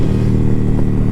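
Indian Challenger or Chieftain motorcycle engine running steadily at close range, a loud, dense, continuous drone with deep rumbling low end and no voices.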